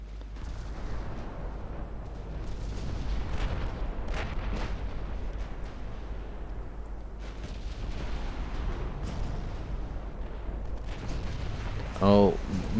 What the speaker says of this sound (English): Oh, Mr. Battleship, you're firing HE.